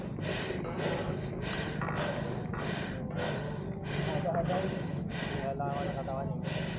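Heavy, rhythmic panting from a cyclist after riding uphill at Bukit Mangsang in Batam, Indonesia: close, quick breaths repeating in a steady series of about ten, each with a sharp gasping intake.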